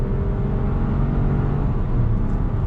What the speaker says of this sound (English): Pulling out on throttle, the simulated shifts.